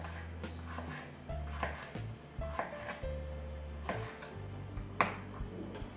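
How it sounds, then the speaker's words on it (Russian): A knife taps and slices garlic into thin slices on a cutting board in quick, irregular strokes, close up, with a low hum in the background. "Чеснок я нарезаю вот такими вот пластинками."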